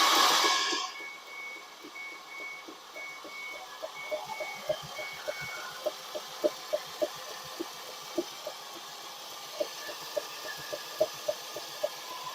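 A long-idle 2006 Ford Escape with a seized, rusty engine being cranked over, its starter turning in a steady series of sharp, regular clicks and thumps that grow more even, with a faint intermittent beeping tone early on.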